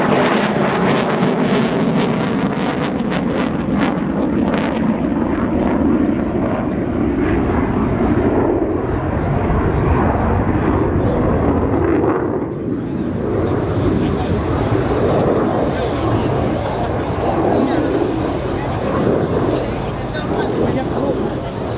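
Sukhoi Su-22 fighter jet flying an air display with afterburner turns and rolls at RIAT 2014, a loud continuous roaring jet rumble with wind noise, a commentator talking over it throughout.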